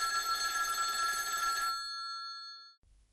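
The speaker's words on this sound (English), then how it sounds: "That night, the phone rang." A telephone bell rings with a bright metallic trill for under two seconds, then rings on and fades into near silence before a low thud.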